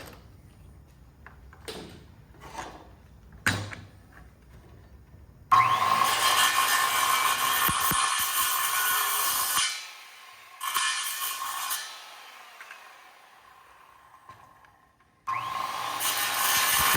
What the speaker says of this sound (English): So the skill saw makes a lot of noise, and it cuts this aluminum no problem really